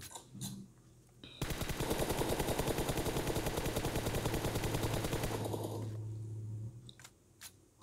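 An M416 rifle in BGMI fires a long, rapid automatic burst of sharp, evenly spaced shots for about four seconds, then a trailing mechanical tail and a few clicks and clacks of reloading follow, with no talk.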